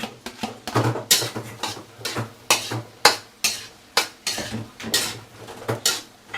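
Onion being sautéed and caramelized in a pot over a low gas flame for osso buco kaldereta, heard as repeated scraping stirs with a spoon against metal, rhythmic and close, with a soft sizzle underneath.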